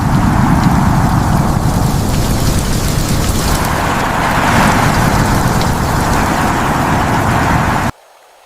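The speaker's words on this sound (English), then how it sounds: "The rain's getting heavier." Heavy rain pouring steadily in a storm, a dense loud wash with low thunder-like rumbles rolling through, cutting off abruptly at the end.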